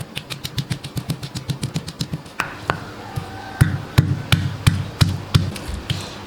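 Garlic, shallots and candlenuts are pounded into spice paste with quick, regular knocking strokes of a pestle, close and distinct, later turning slower and heavier.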